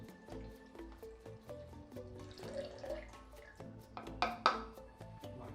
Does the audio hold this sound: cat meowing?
no